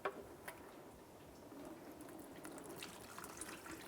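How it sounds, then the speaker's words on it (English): Transmission fluid drains from the oil pan of a 2000-2005 Buick LeSabre, a faint, steady trickle with scattered small drips and ticks, quiet and close with no talking. "Finish draining that fluid and then set this aside."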